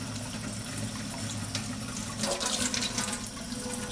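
Asparagus berries dropped into a container of warm water, giving a steady close wash of running and splashing water with a brief louder swirl near the middle.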